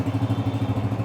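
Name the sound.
Honda Deluxe 125 motorcycle engine running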